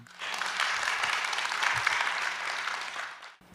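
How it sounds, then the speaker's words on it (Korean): Loud, steady applause from a church audience at a letter-reading event, sustained clapping for about three seconds before cutting off abruptly. "우리 낭독 시작하실 때 큰 박수 부탁드립니다."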